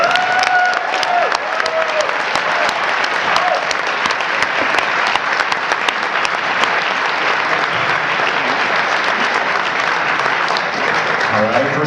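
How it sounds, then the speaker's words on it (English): Audience at the American Crossword Puzzle Tournament breaking into sustained applause, a thick, even wash of many hands clapping throughout with faint crowd noise and a voice briefly heard early on. "I think we deserve a round of applause from all of us."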